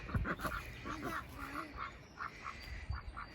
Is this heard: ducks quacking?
yes